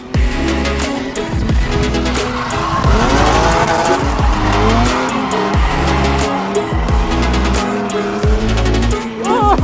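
A drift car on Feal long-stroke coilovers with a looser setup skids with sustained loud tire squeal while its engine revs rise and fall through repeated slides, close and continuous without talking.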